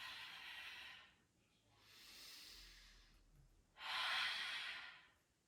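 Three deep breaths come close and clear during a yoga straddle-split stretch, each a long airy rush, with short quiet gaps between and the final exhale loudest.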